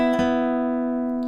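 Electric guitar playing the three-note lead-in to a song's solo: sustained ringing notes with a fresh pluck near the start and a brief restrike just before cutting off, played alone without talk.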